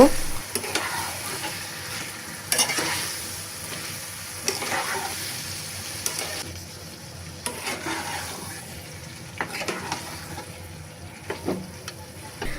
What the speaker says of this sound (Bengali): তো এখন হচ্ছে আমি মাংসগুলোকে মশলার সাথে খুব ভালোভাবে কষিয়ে নেব।